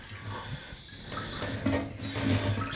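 Fuel trickles and splashes steadily out of a Honda Civic EF fuel tank during a fuel leak repair, a continuous close liquid pouring sound with small gurgling variations and no talking.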